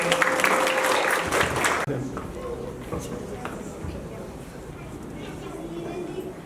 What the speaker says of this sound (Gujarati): સર માટે તાળી પાડીશું આપણે